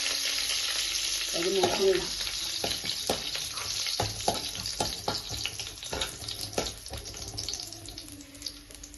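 Curry leaves and dried red chillies crackle and sizzle in hot oil in a home kitchen as tender jackfruit curry is prepared, a steady frying hiss with sharp pops and spits, a brief voice speaking over it early on.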